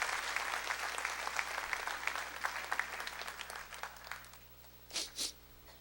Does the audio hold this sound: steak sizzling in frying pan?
no